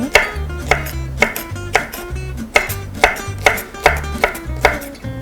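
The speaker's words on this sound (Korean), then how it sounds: "저는 채 써는 게 나중에 샐러드를 했을 때 네, 파스타 면하고 잘 어울리는 것 같아서 채를 썰도록 하겠습니다" A knife julienne-cuts vegetables on a cutting board in a brisk, even rhythm of about a dozen sharp, close chopping strokes, each a crisp thud on the board.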